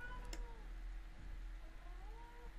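A cat gives a few short meows at a low level over a constant low hum, with one sharp click early on and no talking.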